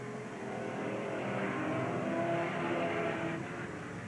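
Race cars on the track at Willamette Speedway in 1987, engines droning and rising as the pack passes, a steady mid-distance roar that swells in the middle and eases toward the end.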